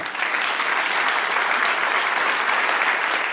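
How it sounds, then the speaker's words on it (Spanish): A church congregation claps for several seconds during a Spanish-language sermon, dense, loud and continuous with no voices. "Dar un aplauso al Señor"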